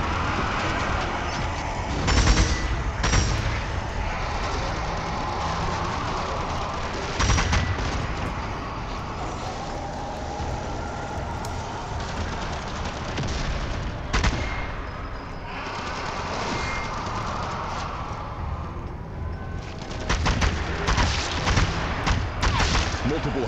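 Machine gun fire rattles in the zombie shooter Zombie Army 4, with loud bursts and booming shots over a dense constant din of game noise, and a player talks over it now and then.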